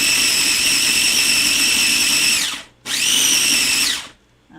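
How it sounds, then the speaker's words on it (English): A blender grinds basil pesto in two loud, steady whirring bursts, the motor winding down briefly between runs and stopping at the end. "any leaf that was in here that wasn't grinding before, now that we have a little more liquid in here, it's going to grind up really well"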